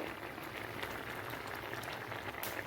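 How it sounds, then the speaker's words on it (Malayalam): Horse gram soup boils vigorously in a pan, a steady, close bubbling and hissing that holds evenly throughout with no talk over it. "ഇതിപ്പം ഇപ്പോൾ നന്നായി തിളച്ചു"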